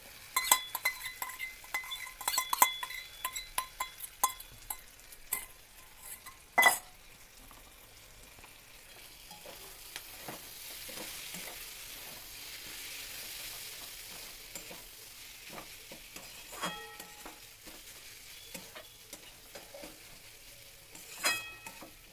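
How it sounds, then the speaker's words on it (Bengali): Chicken mince sizzles quietly in a pan while a spoon stirs and scrapes, with sharp clinks and knocks against the metal coming in bursts between calmer stretches of frying. "চিকেনটা একটু ভাজা ভাজা হোক"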